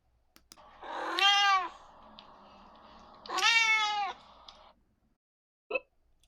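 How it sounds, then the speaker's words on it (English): A cat sound effect gives two drawn-out, close meows about two seconds apart, followed by a brief faint click, in a quiet setting. "Cried the cat."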